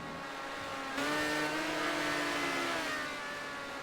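Race cars pass close by on a circuit, their engines swelling to a loud, high-pitched roar, then fading slightly as they move away. No talk is heard.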